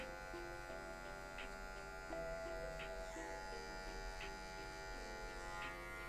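An electric hair clipper buzzes steadily, cutting very straight hair to shade a fade, with a continuous close hum that stays even throughout and has faint rhythmic strokes but no talk.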